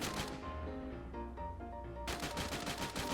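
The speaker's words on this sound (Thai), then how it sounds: "มันยิงอีกฝั่งหนึ่ง" Rapid gunfire from the Free Fire mobile battle game, a dense burst of shots that thins briefly then returns as heavy sustained firing, loud and close with no talk.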